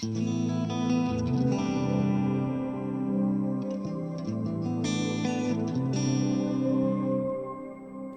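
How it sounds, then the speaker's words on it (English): Electric guitar played through a TC Electronic Hall of Fame 2 reverb with an octaver layered in, giving sustained, shimmering chords with a synthesized wash on top, loud and continuous for the whole stretch. "you can hear this layer of synthesized sounds coming on top of the guitar. On top of the reverb, I mean."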